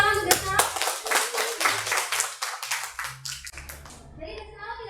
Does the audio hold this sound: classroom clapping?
yes